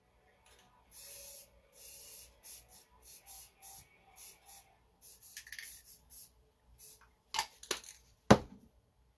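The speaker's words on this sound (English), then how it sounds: "We're doing it right here, so you can hear me with my rattle can." A rattle can of black spray paint hisses in a rapid series of short bursts, close and fairly steady, followed near the end by a few louder clatters and knocks.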